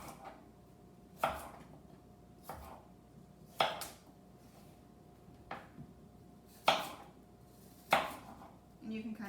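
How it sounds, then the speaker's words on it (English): A knife chops through apples on a cutting board in a quiet kitchen: about six crisp, separate cuts spaced a second or two apart, with faint handling noise between them. "I'll probably just cut up 2 apples for this"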